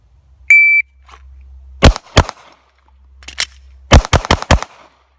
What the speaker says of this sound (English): we're going to do 2 shots into the shoot and see target, reload, and 4 shots into the modified IPSC target